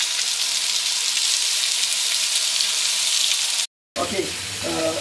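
Chicken thighs sizzle in a grill pan while a Romanian chicken saramura is cooked, a steady loud frying hiss that cuts out briefly, then returns with clattering and a faint voice.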